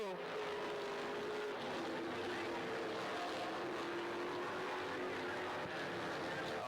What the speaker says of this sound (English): 4 Ed Ferree, a whole bunch of cars together over in 1 and 2.